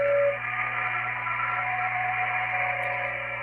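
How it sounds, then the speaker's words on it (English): BPSK digital signal tones received on 14.070 MHz come through a shortwave radio as faint, thin tones inside a steady band of static hiss that lasts throughout. "If you hear a bunch of little tones, that's what you are receiving, which is a BPSK signal"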